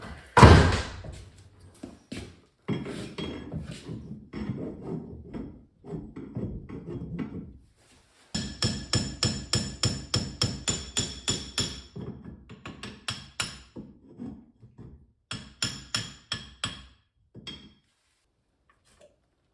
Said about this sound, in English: let's try to knock that bushing out then